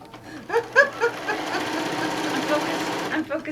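A sewing machine stitches a tote bag panel, its rapid mechanical hum running steadily for a couple of seconds, with a voice talking over the start and end.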